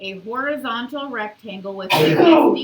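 A person sneezes sharply near the end, a burst of breathy noise following a stretch of voiced talk during a calculus lesson.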